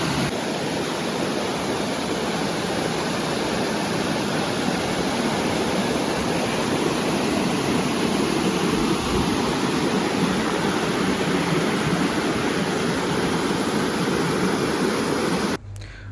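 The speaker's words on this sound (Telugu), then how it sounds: "వాటర్ చాలా ఎక్కువ ఉండడం వల్ల చాలా ఫోర్స్గా వస్తుంది వాటర్" Pallagattu waterfall in Telangana, swollen with heavy water, roars forcefully as a steady, loud, broadband rush that stays constant and close throughout before cutting off abruptly at the end.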